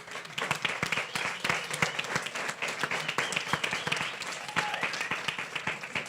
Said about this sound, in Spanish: les pido unos aplausos finales